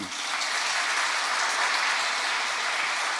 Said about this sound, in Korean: 박수 드립니다